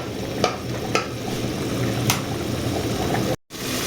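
Masala stir-fried bhuna-style with tomato and green chilies in a pan, a steady close sizzle and hiss with a few sharp clicks of a spatula, cut off by a brief silence near the end.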